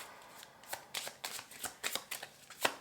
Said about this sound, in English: Let's continue shuffling.